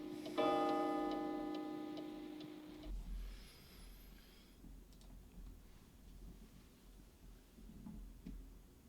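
An old wind-up pendulum clock ticks with faint, steady, evenly spaced clicks, opening under a sustained ringing tone that fades after a few seconds and leaves the quiet ticking alone.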